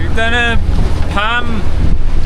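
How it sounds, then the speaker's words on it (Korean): Strong wind roars and buffets the microphone on a sailboat at sea off Germany, with rough waves beneath it. The rush is loud and continuous, and a few brief spoken words come through it. "바람이 생각보다 강해졌고요."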